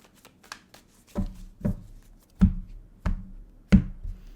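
A deck of tarot cards shuffled by hand, a string of soft, close riffling taps and slaps landing in uneven bursts about every half second, with no voice.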